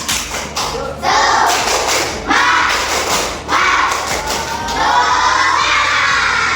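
A classroom of children does a rhythmic spirit clap in bursts of loud group clapping and thumping, with shouts and cheers mixed in.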